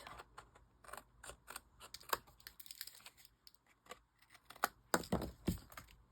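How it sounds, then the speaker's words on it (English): Scissors snip the edges off paper in a quick run of sharp, close clicks and crisp cuts, quiet between strokes, ending in a few louder, denser snips, with no talking. "let's just cut these edges off"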